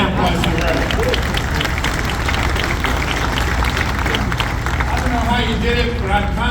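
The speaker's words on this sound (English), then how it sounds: "How about a hand applause to the Reverend?" A crowd at a USS Cooperstown commissioning ceremony applauds loudly and steadily, with dense overlapping clapping and a murmur of crowd noise beneath.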